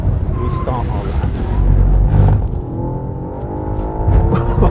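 A Mercedes-AMG C63 Estate or Audi RS4 lapping a wet race track, a close loud engine rumble that rises and falls with revs, under someone talking.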